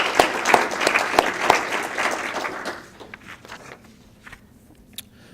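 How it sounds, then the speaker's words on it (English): Applause at a mayor's employee recognition awards ceremony for two honorees, including a police department employee, building briefly and then fading after about three seconds into scattered claps and quiet room noise. "let's have a round of applause for those"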